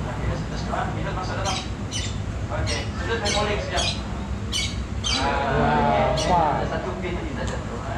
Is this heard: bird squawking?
yes